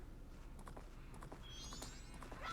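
Horse hooves clip-clop in the game Majora's Mask, a faint, quick rhythm of light taps over a low background hum, with a brief chime near the end.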